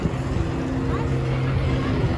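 A tractor driven by Santa Claus at a Christmas farmers market in a city park hums nearby with a steady low engine drone throughout.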